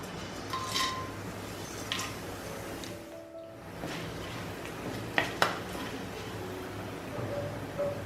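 Whole spices fry in oil in a pan while cooking yellow rice, a soft hiss under clinks and scrapes of utensils against the pan, with a couple of sharper knocks.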